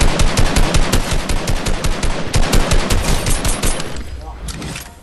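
Rapid gunfire in Fortnite, a fast stream of loud, close shots in a steady automatic rhythm that goes on for about four seconds and then stops.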